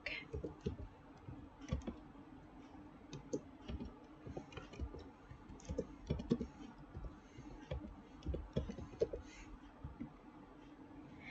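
Computer keyboard typing an nmap command, a faint, quick run of soft clicking keystrokes with irregular rhythm, close to the microphone.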